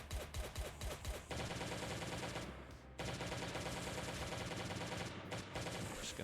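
Rapid, dense gunfire sounds in a shooter video game set in a bunker, with loud repeated shots and bursts that fill the whole stretch. The firing pauses briefly midway.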